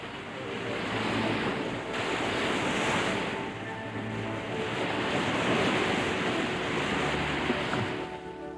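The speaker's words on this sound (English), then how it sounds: "At Popular Thunder Hole, waves assail the rocks with surging strength." Ocean waves surge and crash against the rocky shoreline at Thunder Hole in Maine, a loud continuous roar of surf and rushing water with wind buffeting the microphone, no voices.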